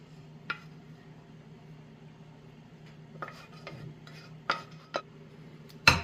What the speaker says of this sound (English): now you want to take your green chili sauce and you want to spread it all over these enchiladas